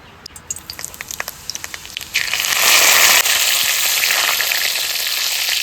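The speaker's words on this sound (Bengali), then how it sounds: "ফোড়না দেব জিরে আর তেজপাতা" Cumin seeds and bay leaves hit hot oil for a tempering. A few sharp crackles come first, then a sudden loud, close sizzle that stays strong to the end.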